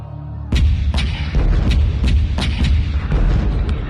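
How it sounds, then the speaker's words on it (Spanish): Seven loud artillery cannon shots boom one after another at roughly half-second intervals, each a sharp blast trailing into rumble. "Hubo 7 disparos y la plaza quedó desierta"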